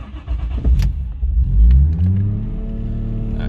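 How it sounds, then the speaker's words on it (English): A car engine, restarted after its battery was disconnected, fires up loud and close, revving sharply with a few clunks, then settles into a steady, slightly high idle hum. "She's revving a little bit high because the computer's got to relearn because I did disconnect it"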